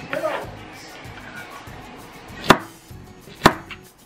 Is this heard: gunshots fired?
no